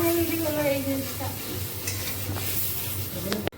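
Pointed gourd frying in oil, with a steady sizzle and a spatula stirring and scraping against the pan, close and continuous throughout.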